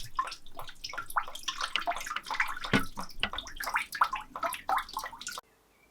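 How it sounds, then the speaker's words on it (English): Water splashes and gurgles steadily as it is poured into the engine of a Porsche 924 S Turbo undergoing a rebuild, a close, busy wet sound that cuts off abruptly near the end. "start chucking some water in here"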